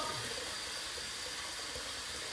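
Tap water runs steadily into a sink, a constant close hiss and splash with no pauses, used to warm a razor before shaving.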